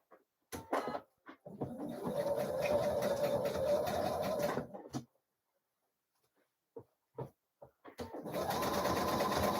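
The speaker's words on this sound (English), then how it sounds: "we're going to straight stitch it top and bottom just to hold that in place." A sewing machine runs a straight stitch through a sequinned dress, whirring steadily in one long burst of about three seconds, then stopping, with short stuttering starts before a second run begins near the end.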